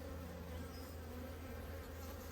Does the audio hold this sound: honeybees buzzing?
yes